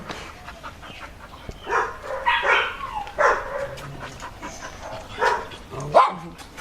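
Several dogs bark and yip repeatedly in an animal shelter's kennels, some sharp and close and others further off, with occasional whimpers and clanking in the background.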